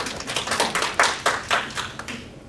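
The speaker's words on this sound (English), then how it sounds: "you deserve a round of applause just for carrying it" Sparse clapping from a small lecture audience during a digital photography class: about a dozen sharp, separate claps at an uneven pace over a couple of seconds, then fading out.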